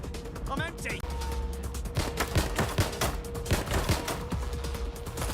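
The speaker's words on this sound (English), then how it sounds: "They're shooting at us." Sustained gunfire in the video game Watch Dogs: Legion, dense repeated shots running throughout alongside game sound effects, with voices talking over the shooting.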